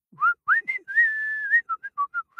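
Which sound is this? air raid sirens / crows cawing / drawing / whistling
whistling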